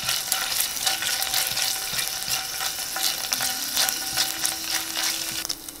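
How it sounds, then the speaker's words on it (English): Steady crackling sizzle of garlic frying in a hot pan, close and continuous with no talking. "Ooh, hear that sizzle."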